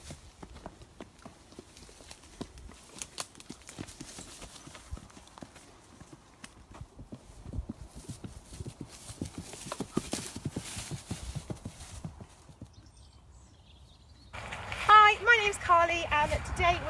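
Horse hooves clip-clop on hard ground at a racing yard, a steady walking rhythm of close, moderately loud steps, with a brief louder burst of other noise near the end.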